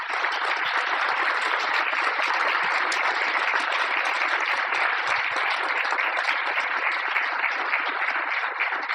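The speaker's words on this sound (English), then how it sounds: "Let's give her another round of applause." A steady wash of audience applause follows a Veterans Day address at an agency event, dense and even throughout, heard from within the room with no voices over it.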